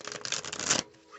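A brief riffling shuffle of a deck of oracle cards, close and soft, fading to quiet after under a second.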